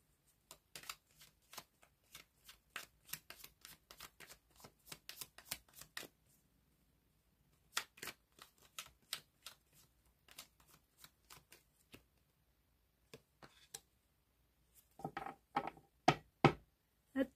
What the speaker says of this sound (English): Cards are flying out.